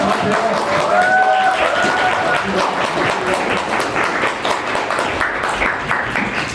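An audience at a book talk concert applauds to welcome the author onto the stage, a dense, sustained wash of clapping from many hands that holds steady throughout, with faint voices underneath.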